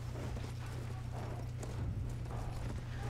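Horse hooves clip-clop steadily in Battlefield 1 during a Conquest match, a quick rhythmic trot of hoofbeats over a low droning background hum, fairly faint.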